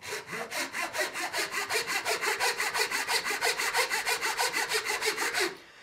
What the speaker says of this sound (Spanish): con la lima ir haciendo muescas para hacer lo que sería el rascador con la lima redonda.